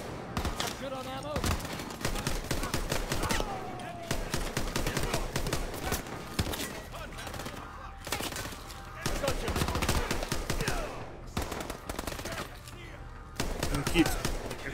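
Rapid automatic gunfire bursts and scattered shots in the video game Call of Duty: Advanced Warfare, in a prison level, come in repeated volleys with brief pauses, mixed with players' voices.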